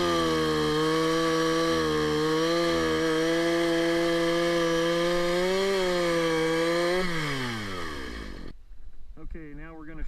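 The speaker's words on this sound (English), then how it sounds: "just let the saw do the cutting" A gas chainsaw cuts through a log, its engine droning loud and steady under load with small pitch dips, then winding down near the end as the cut finishes.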